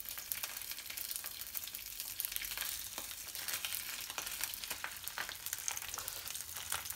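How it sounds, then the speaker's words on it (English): A sea bass fillet sears in a very hot pan with a little olive oil and is pressed down, giving a steady, close, loud hiss of frying that runs without pause, with faint crackles and pops in it. "So we put our fillet on the hot, very hot pan."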